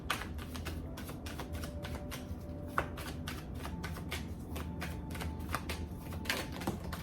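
Tarot cards are shuffled steadily and up close, with rapid crisp riffling and flicking that continues throughout without speech.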